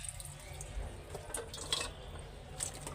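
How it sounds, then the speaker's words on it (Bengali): Leafy greens being washed in water to rinse out sand: faint splashing, dripping and sloshing of water in a sink, soft and close, with no talk. "শাকগুলিও বাছা শেষ, তো ধুয়ে নিতেছি ভালো কইরা"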